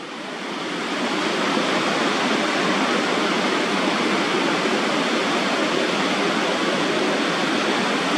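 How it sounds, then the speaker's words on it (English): Big ocean waves about 17 feet high break at the Wedge in Newport Beach, California, making a continuous loud roar of surf and spray that swells in and holds steady throughout. "The biggest waves I've ever been on at the Wedge in Newport Beach, California."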